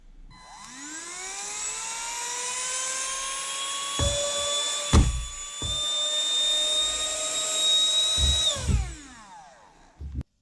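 Handheld vacuum cleaner switched to its second speed, spinning up into a loud, steady high-pitched whine with a strong motor drone, a few thumps and knocks along the way, then winding down near the end.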